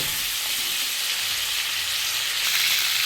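Chicken meat fries in hot oil with a steady, close, bright sizzle that holds evenly throughout, with no voices.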